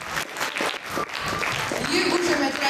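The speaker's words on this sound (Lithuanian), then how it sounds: "Paplokite garsiais plojimais." Audience at a Valentine's Day school show applauding, a dense wash of clapping held steady and fairly close, with a voice speaking over it near the start.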